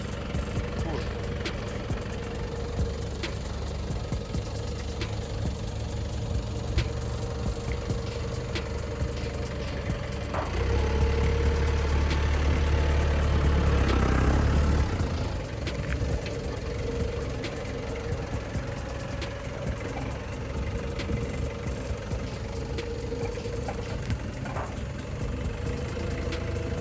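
A forklift engine runs steadily as the machine is driven, a low continuous hum that swells for a few seconds midway, with people talking over it throughout.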